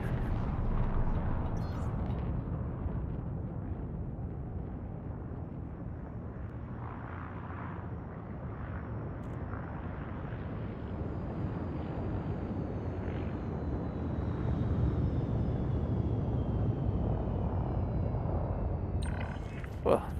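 Spaceship landing on a pad in the video game Elite Dangerous, a steady low engine rumble and roar that holds throughout with faint hissing thruster bursts near the end.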